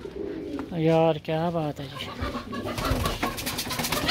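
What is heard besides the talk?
pigeons cooing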